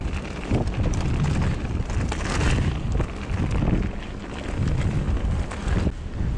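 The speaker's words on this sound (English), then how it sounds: "Oh, that gust." Strong gusty wind buffets the microphone on an exposed, dusty hillside near a wind turbine, a loud roaring rush that surges and eases in waves throughout.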